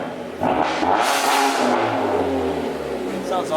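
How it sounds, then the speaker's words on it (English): A 2016 Dodge Dart with a low-boost tune and intercooler build revs up, its engine rising in a loud, close run with voices talking over it. "Let's give it some revs."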